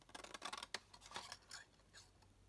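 Scissors snip through card for a small flap-top gift box, a quick series of close, crisp cuts at low volume with no talking.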